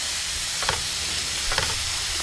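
Meat browning in a pan, a steady broadband sizzle and hiss with two brief stirring scrapes partway through.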